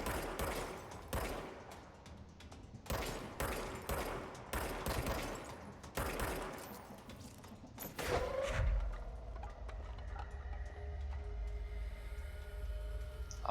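Gunfire in the action game Control, a string of sharp, fairly close shots with short gaps for about eight seconds, ending in a heavy thump and then a low, droning ambience.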